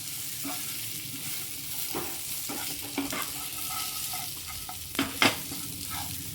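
Chicken chukka frying in a pan while a spoon stirs it, a steady sizzle beneath sharp scraping clinks at irregular moments, loudest near the end, with no talking.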